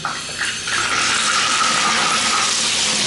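Hot water gushes steadily from a tap into a sink in an apartment, a loud continuous splashing rush that swells after a brief start and holds strong throughout.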